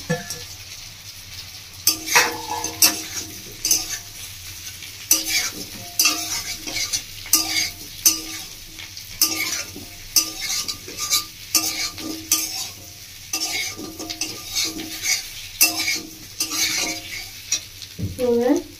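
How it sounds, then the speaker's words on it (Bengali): Paneer and cauliflower stir-fried in a pan with onion and chili: a continuous sizzle under repeated scraping and clinking spatula strokes against the pan, coming in irregular bursts. "পেঁয়াজ লঙ্কা হালকা হালকা করে ভেজে নিয়েছি, এবার আমি দিয়ে দেবো ভেজে রাখা পনির আর ফুলকপিটা।"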